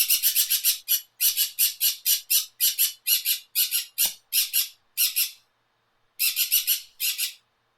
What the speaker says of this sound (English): Sorry, my bird is feeling a little talkative today.